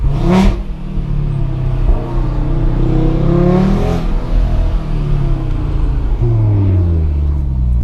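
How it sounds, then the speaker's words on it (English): A 2018 Audi RS3 five-cylinder engine, mapped and fitted with a decat downpipe, revs loudly and downshifts, with rising and falling engine notes and sharp blips between gear changes, close and continuous throughout. "Look at downshift."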